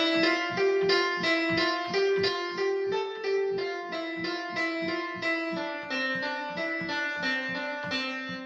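A synthetic, slightly buzzy tone plays a fast melody of even notes that keeps circling around the same few pitches, loud and continuous with no voices.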